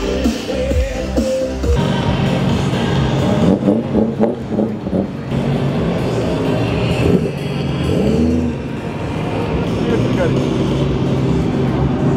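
A Nissan GT-R roars past on a street, its loud engine swelling and fading amid traffic noise while people talk over it.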